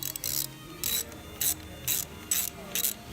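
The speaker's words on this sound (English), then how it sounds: "So now I'm actually cutting threads." A small wrench turns a bolt to cut threads in a transmission mount, giving six short ratcheting clicks in regular bursts, close and fairly quiet, with no voice.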